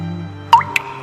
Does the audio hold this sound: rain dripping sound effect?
yes